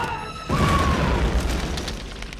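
A sudden deep boom bursts out from a bomb exploding in the action film Operation Delta Force, followed by a long rumbling roar that slowly fades.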